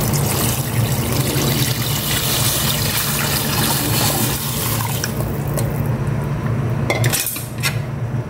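Water is poured into a cooking pot holding seasoned pork cubes, a loud, continuous splashing rush with metallic clinks of the pot, close up and with no talking.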